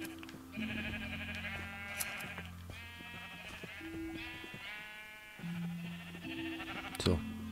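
Several sheep bleat in the Minecraft video game, their wavering synthetic calls overlapping one after another, with a short sharp sound near the end.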